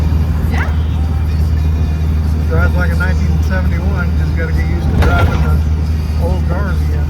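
A 1971 VW Super Beetle convertible rumbles along with a low, steady engine drone and road noise from inside the car. People talk over it now and then.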